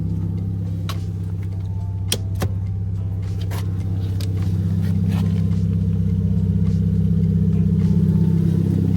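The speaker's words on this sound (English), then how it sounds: "I'm gonna move the car forward a little bit so I can see it better." A Hyundai Genesis Coupe's engine hums steadily at low revs as the car creeps forward a short distance, with a few sharp ticks and clicks near the start and the engine note swelling slightly toward the end.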